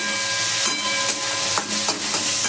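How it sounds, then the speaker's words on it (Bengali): Dried loitta fish fries with garlic in hot oil, giving a loud, continuous hissing sizzle with steam, broken by a few soft scraping stirs close by. "মাছগুলোকেও ভালো করে একটু ভেজে নেবো"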